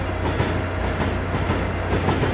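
Amtrak HHP-8 electric locomotive running toward New Rochelle in Train Simulator 2015, a steady rumbling cab drone with faint rhythmic wheel clatter and a slight squeal near the end, no talking.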